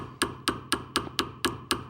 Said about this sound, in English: I will use a ball peen hammer. And now I'm using the ring mandrel as my anvil.